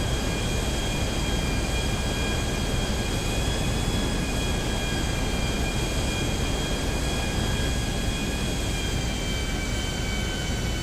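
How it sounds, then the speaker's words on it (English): Continuous roar of a plane's engines during a flight headed to Las Vegas, Nevada, steady and loud throughout with high whining tones running across, no voices. "Here is the clip of the plane crash."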